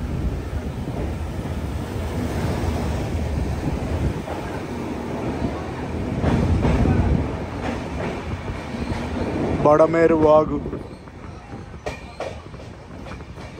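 The Mumbai LTT to Kakinada Port Express rushes at speed between Vijayawada and Eluru, a continuous heavy rumble of wheels with bursts of clatter and wind buffeting. Someone briefly speaks over it.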